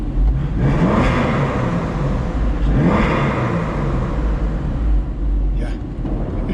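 Exhaust of a 2000 Porsche 996 Carrera 2 Cabriolet revving inside a tunnel, two loud rising revs that echo off the walls, then a steady reverberant drone with a brief dip, close and dominant.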